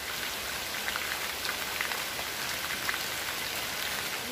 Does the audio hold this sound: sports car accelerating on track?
no